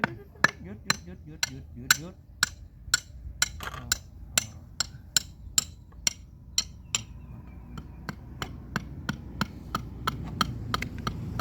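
Nails hammered into wood while building a kitchen table, a long run of sharp metallic strikes in steady rhythm, quick at first then spaced more evenly, close and loud over a low background hum.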